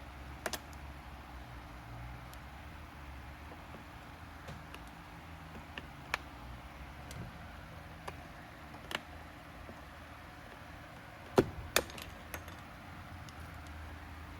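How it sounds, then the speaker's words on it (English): Flathead screwdriver prying a button out of a Dyson Ball vacuum cyclone, heard as faint scattered ticks and small plastic clicks, with a pair of sharper snaps near the end, over quiet room hiss. "we're just going to kind of gently pry this out with a flathead."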